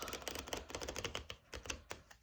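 A flexible cardstock tarot deck is shuffled, giving a soft, rapid run of crisp clicks and riffling flutters that continue steadily for a couple of seconds, close by and quiet.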